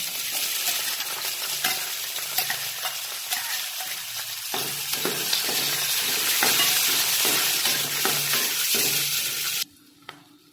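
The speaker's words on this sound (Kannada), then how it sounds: "ಈಗ ಅದೇ ಎಣ್ಣೆಗೆ ರೀ ಗೋಡಂಬಿ ಕರ್ದು ತೆಗ್ದೇವಲ್ಲ, ಅದ್ರೊಳಗ ಇದು ಈರುಳ್ಳಿ ಸ್ವಲ್ಪ ಕಟ್ ಮಾಡಿದ್ದನ್ನ ಹಾಕ್ತೇನ್ರಿ" Chopped onions fry in oil left over from frying cashews for a dhaba-style kaju masala, giving a loud, steady sizzle with occasional stirring scrapes that cuts off abruptly near the end.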